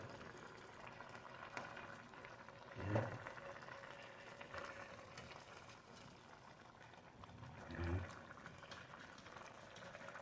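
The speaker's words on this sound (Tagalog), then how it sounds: "Let's cover and simmer for 1 minute." Milkfish with chorizo de Bilbao simmers in a covered pan, giving a faint, steady bubbling with two brief low thumps; a voice can be heard softly in the background.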